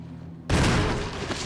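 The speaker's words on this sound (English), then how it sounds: "There's going to be a zombie here in the corner. I am going to shoot him." Gunshot fired at a zombie in a Resident Evil game, a single sudden loud blast after quiet ambience, followed by a short decaying boom.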